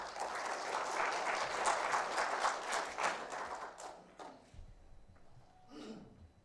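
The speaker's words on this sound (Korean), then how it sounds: "큰 박수로 환영해 주십시오." Audience applause in a seminar hall at a Seoul YMCA 120th anniversary event, a dense burst of clapping that fades over several seconds into scattered claps and quiet room noise.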